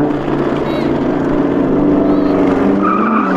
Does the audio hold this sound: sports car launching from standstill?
yes